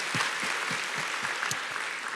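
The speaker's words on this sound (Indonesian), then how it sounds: "Kita boleh kasih tepuk tangan untuk mereka." Church congregation clapping for the mothers during a sermon, a soft wash of applause with a few distinct rhythmic hand claps standing out, moderately faint and brief.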